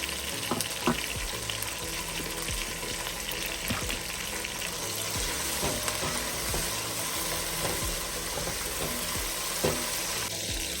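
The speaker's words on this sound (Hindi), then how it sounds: "बस इसको मैं भी 1-2 मिनट भूनूंगी" Whole garam masala frying in oil, with almond flower, two black cardamoms, a cinnamon piece, cloves, bay leaf and a tablespoon of cumin: continuous soft sizzling crackle with scattered stirring clicks of a utensil, no voices.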